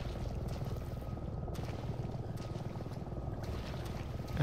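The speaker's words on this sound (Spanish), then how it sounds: "Helicóptero." Helicopter in the Resident Evil 7 video game, a steady low rotor drone running throughout at moderate distance, with a faint wind-like hiss and occasional brief high swishes above it, no voices.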